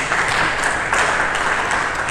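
Congregation clapping during a church sermon, a dense, loud wash of many hands that holds steady for a couple of seconds.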